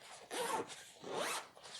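A hidden zipper on a cushion's outer cover is pulled open in two quick, close rasping runs, each rising and fading, with a shorter third pull at the end and no talking.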